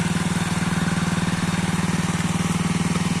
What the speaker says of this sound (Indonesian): di sini mesin sudah saya bunyikan ya, sudah dari tadi sebelum saya melakukan penyepraian mesin saya bunyikan dulu